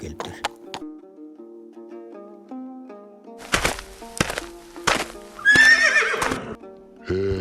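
A horse whinnies loudly and close at the end of a tonal musical backdrop, mixed with hoof clip-clops and thuddy knocks in a told folk tale about a shepherd watching horses.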